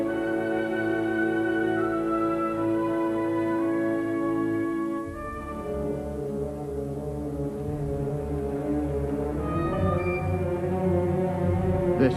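A deep, steady horn-like drone with a rumbling engine underneath as the Flying Scotsman steam locomotive pulls out of a station, shifting partway through as it rolls on, loud and continuous.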